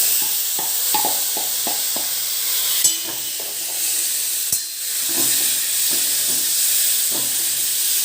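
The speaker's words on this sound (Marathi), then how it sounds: "त्याच कढईमध्ये आता आपण पनीर छान परतून घेऊया" A loud, even sizzle of paneer frying in a pan, with light tapping and stirring noises scattered throughout.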